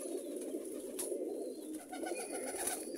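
Lakha high-flyer pigeons cooing close by, a steady low throaty murmur running throughout with a few faint higher chirps above it, no talking.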